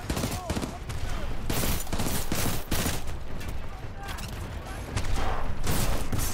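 Rifle fire in Titanfall 2 crackles in rapid repeated bursts amid a busy combat din, with a voice speaking over the shooting.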